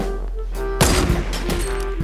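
Gunfire in the Fortnite video game, a burst of sharp, loud shots starting partway in, several cracks in quick succession over a steady background hum of game audio.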